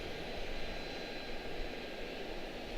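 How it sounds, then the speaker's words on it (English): Airliner jet engines roaring faintly and steadily at Charlotte-Douglas airport, a distant, even rumble with no voices. "London Heathrow touching down right now"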